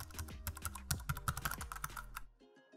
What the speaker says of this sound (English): add a keyboard typing sound effect